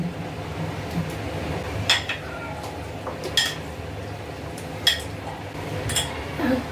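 A spoon stirs a chicken marinade of yogurt and lemon in a bowl, producing scattered sharp clinks against the bowl over a low background rumble.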